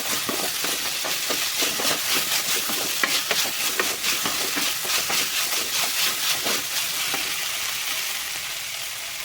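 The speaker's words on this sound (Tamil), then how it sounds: "இப்போ நம்ம வந்து எண்ணெயிலே 1 நிமிஷத்துக்கு நம்ம வணக்கி விட்டுக்குவோம்" Snake gourd sautéing in oil in a pan at medium heat, a steady close crackling sizzle with frequent sharp pops and spatters running throughout, no voices.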